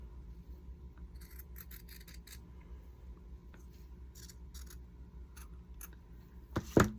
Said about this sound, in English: And now I'm just going to cut it out.